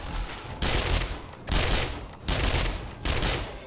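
Gunfire in the video game 7 Days To Die, loud repeated bursts of automatic fire, four or so sustained volleys separated by short pauses, close and continuous with no talk over it.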